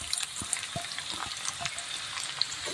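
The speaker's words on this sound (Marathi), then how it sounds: "कांदा सुद्धा छान लालसर रंग येईपर्यंत तळून घ्यायचा आहे" Finely chopped small onion fries in oil with garlic and cumin for a pokla leaf bhaji, a close, steady sizzle broken by soft scraping stirs and occasional pops, with no talking.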